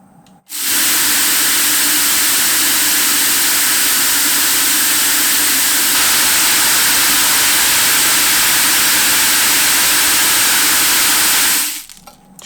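A homemade magnetic deburrer spinning at 2000 RPM, a loud continuous hissing roar that starts abruptly, holds steady for about eleven seconds, then cuts off, with no voices.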